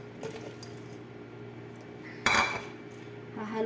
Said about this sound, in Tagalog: Haluin lang natin guys. Hanggang sa lumambot yung tinapay.